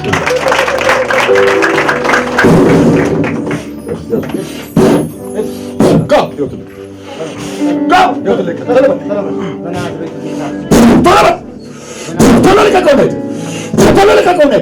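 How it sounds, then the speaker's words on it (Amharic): A church congregation claps for the Lord in a loud, sustained burst of overlapping hand claps, with sharp louder accents scattered throughout and voices calling out over the clapping. "አጨብጭቡ ለጌታ።"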